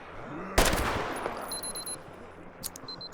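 A single loud gunshot in the post-apocalyptic shooter Metro Exodus, with a sharp crack and long reverberant tail, followed by faint mechanical clicks and quiet ambience.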